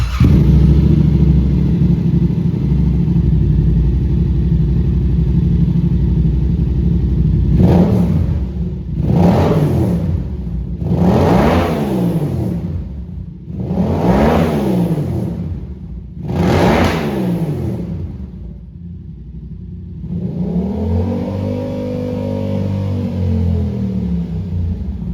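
A hot Yamaha R7 sport motorcycle with an M4 aftermarket exhaust, no quiet insert, idles with a deep rumble, then revs hard five times in a row, each blip rising and falling, before settling back to a burbling idle.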